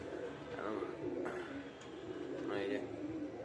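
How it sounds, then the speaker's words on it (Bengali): Kalasabuj Giribaz pigeons at a home loft coo in soft, repeated throaty calls close by, layered over a low background murmur. "অসাধারণ সব পায়রা"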